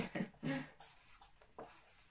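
A pen scratches across paper in several short strokes, close and quiet, with pauses between bursts.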